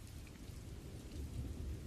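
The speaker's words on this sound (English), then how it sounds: "Outside, it is raining lightly." Light rain falls outside a window of a quiet room, a soft, even patter with a low rumbling wash underneath, faint and steady throughout with no voices.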